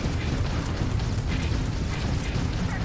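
Enemy spaceship blowing apart during combat in the game Starfield, a continuous loud rumbling, crackling explosion with heavy low-end boom that sustains without letup.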